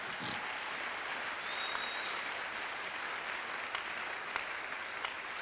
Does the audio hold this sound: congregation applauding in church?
yes